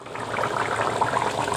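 Vegetarian paneer curry in a pan bubbles at a steady simmer, a dense close-up crackle of small pops and bursting bubbles holding even throughout.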